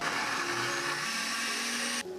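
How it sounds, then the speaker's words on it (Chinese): A blender purees chopped pineapple core with pineapple juice, a loud steady whirring motor hum that runs for about two seconds before cutting off abruptly. "硬心放入榨汁机中，"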